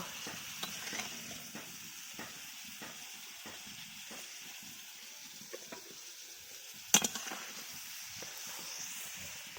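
Pieces of papaya frying in oil, fried to a light red, crackle quietly in a steady hiss punctuated by scattered spatters and one sharper clatter.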